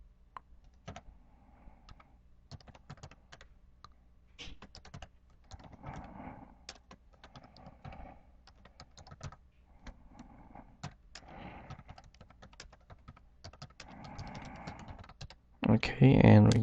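Someone types on a computer keyboard with quick, light, irregular clicks in short runs, close and fairly quiet, while a voice talks intermittently and a louder burst of noise comes at the end.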